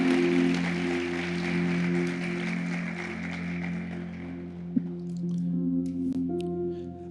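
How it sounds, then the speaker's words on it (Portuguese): A church congregation applauds in a dense, steady patter over a sustained musical hum, and the clapping thins out toward the end as the tones continue. "Aplauda o Senhor Jesus, por favor"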